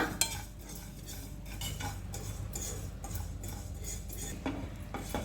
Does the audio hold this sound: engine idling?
no